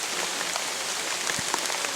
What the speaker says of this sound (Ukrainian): Жоден прогноз не не показував дощу.